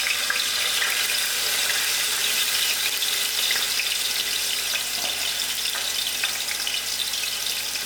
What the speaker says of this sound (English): I'm going to add in my onions.